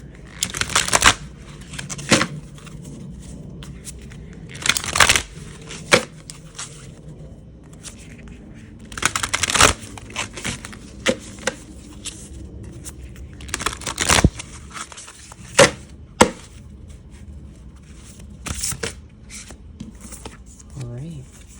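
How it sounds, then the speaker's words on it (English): Oracle cards are shuffled in repeated crisp riffling bursts, separated by quieter pauses and light handling noises. "Needs more shuffling."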